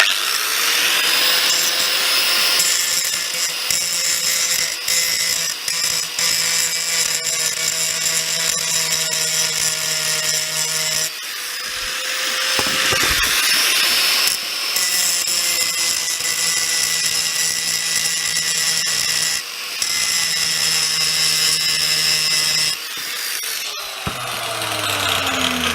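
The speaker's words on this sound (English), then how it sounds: "I'm just going to grind off these little welds here, the little stampings, and get the rest of the wheels, the other two wheels off" An angle grinder with a grinding disc runs continuously and loudly while grinding off welds on metal wheels, a steady high whine with brief dips and restarts as the disc loads and unloads against the steel.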